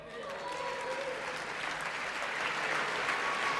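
Audience applause fills a large room, a steady dense clapping from a crowd that holds at a constant level and swells slightly toward the end.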